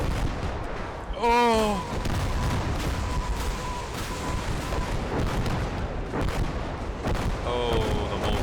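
Mortar and artillery fire booms and cracks across a battlefield in the game Call To Arms: Gates of Hell, with whistling incoming shells and scattered distant gunfire, plus a brief startled voice exclamation.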